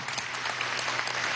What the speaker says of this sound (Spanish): un aplauso a este joven